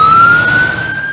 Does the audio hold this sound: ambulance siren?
yes